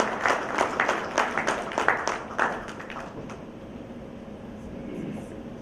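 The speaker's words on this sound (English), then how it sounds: "let's give a big round of applause and welcome Mr." An audience applauds to welcome a speaker at a manufacturing day conference, a few seconds of clapping in rhythmic bursts that fades into a quiet room hum.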